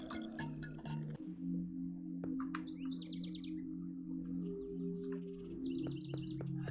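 Birds chirp and tweet in a dreamlike video game scene, short bright calls in bursts over a steady low hum, with no talk.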